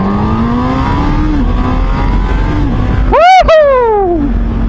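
Honda CB1000R motorcycle accelerating hard on an open road, its engine note climbing loudly and steadily under heavy wind rush, with a steep rising sweep of revs near the end.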